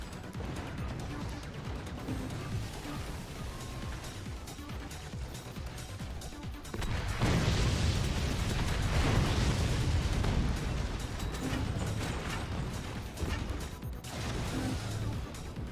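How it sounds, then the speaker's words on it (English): Mortar explosions in the strategy video game Forts: a steady rumble of battle, then a louder stretch of booming, crashing impacts lasting several seconds before easing back. "I'm hearing mortars"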